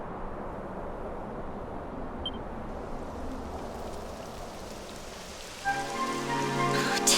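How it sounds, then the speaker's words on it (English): Rain falls in Dragon Quest XI S as a steady soft hiss of drops on surfaces, with a bright game music cue entering near the end over the continuing downpour. "It would have to go and start raining, wouldn't it?"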